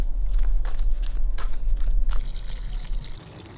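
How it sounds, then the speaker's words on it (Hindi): Water is poured from a bucket at home, a wet splashing and trickling that runs in uneven bursts with a few soft knocks, fairly close and alone with no talk. "इस बाल्टी से सिर्फ एक बाल्टी पानी लेता हूँ"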